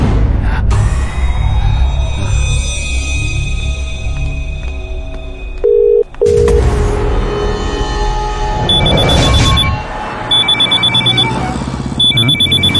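A new mobile phone rings with bursts of repeated high electronic beeps, loud against dense dramatic film music and effects.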